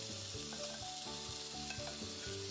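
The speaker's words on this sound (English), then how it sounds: "The first ingredient that we will use is the bacon, and it's going into the cast iron pan" Cut bacon sizzles quietly in a cast iron pan for tacos, a soft, continuous crackle over a faint musical backdrop.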